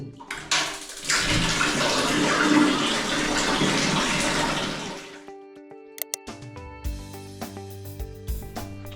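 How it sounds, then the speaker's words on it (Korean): Hot water gushes from a shower tap in a hotel bathroom in Indonesia, a loud rushing spray for about five seconds that cuts off abruptly, followed by scattered clicks and knocks. "뜨거운 물이 어떻게 나오냐면"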